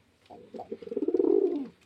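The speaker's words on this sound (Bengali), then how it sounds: "খুব ভালো লাইনের, বিরাট লাইনের পায়রা" A single pigeon coo, a soft throaty rolling call that swells and fades over about a second and a half, close and alone.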